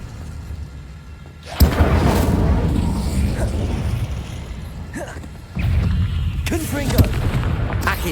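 Incendio fire spell cast in Hogwarts Legacy on PS5, loud roaring bursts of flame with booming impacts, two separate blasts that each sustain for a few seconds, with crackling and mechanical clatter mixed in.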